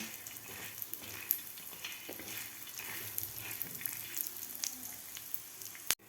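Coriander seeds, coconut and peanuts roast in a little oil with a soft, continuous sizzle, light stirring scrapes and a sharp clink near the end.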